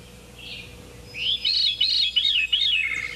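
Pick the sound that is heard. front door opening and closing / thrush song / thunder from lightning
thrush song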